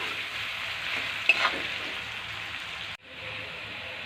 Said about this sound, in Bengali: দেখুন পেঁয়াজটা ভাজা ভাজা হয়ে এসছে।